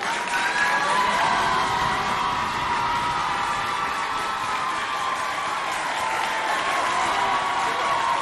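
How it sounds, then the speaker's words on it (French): A school audience at a high school competition applauds and cheers for two students, dense clapping mixed with shouts and whoops from young people, sustained and loud throughout without letting up. "On applaudit pour Charbel et Marie-France."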